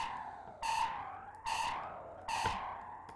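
Synth run through a Filterfreak2 filter effect, three loud swept bursts in an even rhythm, each fading into a resonant tail.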